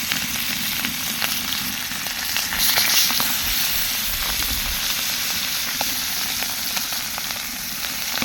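Chanda fish frying in hot oil with onion in a pan, a steady broad sizzle running throughout with a slight swell midway, close and fairly loud with no talk.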